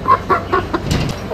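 Chickens at home clucking close by, a quick series of short rhythmic clucks over about a second and a half.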